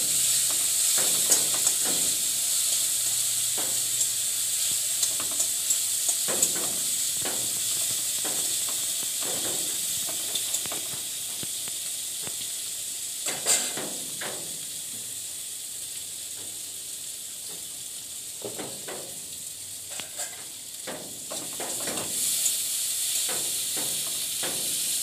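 Turmeric and chili paste fry in a pan, a steady hiss and sizzle with scattered soft scrapes and taps from stirring, close by and without voices.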